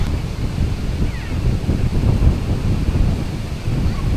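Rough surf churns against the beach at Boracay, a constant loud roar of breaking water mixed with gusty wind buffeting the microphone.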